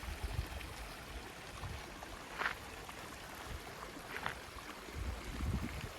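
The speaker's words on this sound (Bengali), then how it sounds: "এই যে জলটা দেখছেন ওই পাহাড় থেকে আসছে" Hot spring water runs down from the mountains in Ladakh as a faint, steady trickling flow with a few soft splashes. No one speaks.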